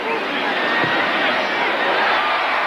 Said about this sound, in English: Another cheer.